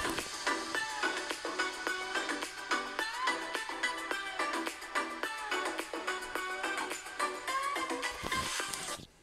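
Busy music with a steady, punchy beat plays continuously through small laptop speakers at 50% volume, fairly bright and compressed, with no talking over it.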